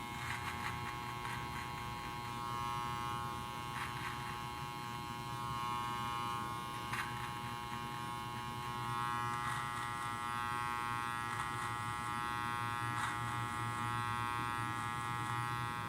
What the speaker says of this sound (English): I'm gonna start with my trimmer, just to initiate the fade from his head into the beard.